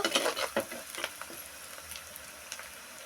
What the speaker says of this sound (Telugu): ఇప్పుడైతే ఈ ఉల్లిగడ్డలు వేగాలండి బాగా ఉల్లిగడ్డలు బాగా కలర్ మారిందండి బాగా వేగింది